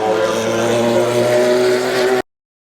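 A Porsche 956 race car on the Goodwood Festival of Speed hillclimb produces a loud, sustained engine drone with steady tones for about two seconds before the sound cuts off abruptly.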